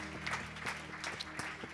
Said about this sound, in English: Can we give the Lord a hand clap of praise right now and thanks given to him?